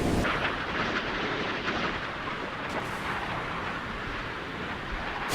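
Warship anti-ship missiles, Exocets fired from the French frigate Suffren in the naval game Sea Power, launch in a continuous heavy roaring rumble with overlapping booms, fairly faint and steady, with no voices.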